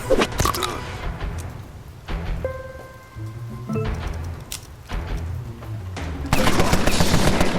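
Gunfire in the video game Empire of Sin: sharp bursts of shots and rattling automatic fire, interspersed with brief tonal game effects, ending in a dense loud volley.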